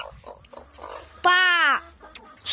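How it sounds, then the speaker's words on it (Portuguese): Chickens on a farmyard where eggs are being gathered: soft scattered clucks and rustling, then one loud, close, drawn-out squawk lasting about half a second, followed by quieter clucking. "As galinhas tá tudo voltando."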